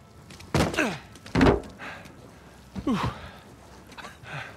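Gear tossed onto the floor in Uncharted 4, landing as a few separate dull wooden thunks spread over several seconds, each a short, close, fairly loud knock.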